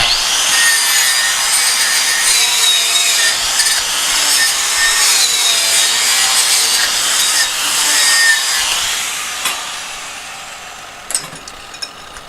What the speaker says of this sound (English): We'll sand her up a little bit.